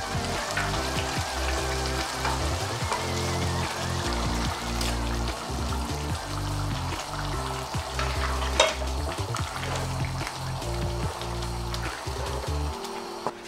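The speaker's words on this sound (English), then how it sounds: "It is time to add our okra now." Okra sizzling and being stirred in a pot of Ghanaian okra stew, a steady crackling fry with repeated scraping stirs throughout, close and constant.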